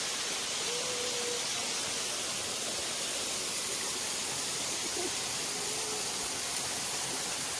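Jalpari waterfall near a cave at Hetauda, Manahari, with a stream below, gives a constant loud rushing roar of falling and flowing water, close and unbroken.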